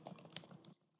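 Quick, light clicking of keys on a computer keyboard, a brisk run of close taps over under a second that then stops, quiet with no talking.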